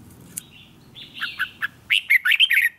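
A red-whiskered bulbul decoy bird calls outdoors, a run of bright chirps and warbled notes that grows quicker and louder toward the end, close and clear above faint low background noise.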